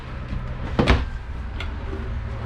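A single travel trailer kitchen drawer slides and thuds nearby, a brief solid knock followed by a lighter click, over a steady room hum.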